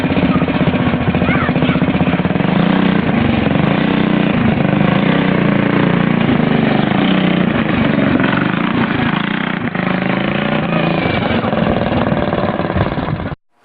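A small racing car's engine runs steadily and loudly the whole time, a continuous buzzing drone on a first drive, cutting off abruptly at the very end.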